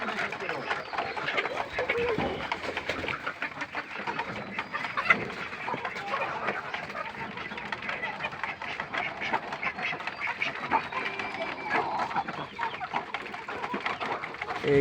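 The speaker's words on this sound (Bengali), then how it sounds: "এখানে আমার দেশি মুরগি আছে এবং টাইগার" Adult desi laying hens and three Tiger ducks in a pen cluck and quack continuously at close range, while a person talks over the flock.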